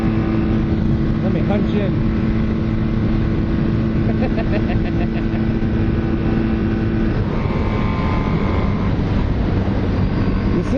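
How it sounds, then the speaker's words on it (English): A 440 motorcycle engine drones loudly and steadily, with throttle blips rising over the running note, wind-buffeted and close, while a voice briefly speaks. "I can pop the throttle. How's that sound?"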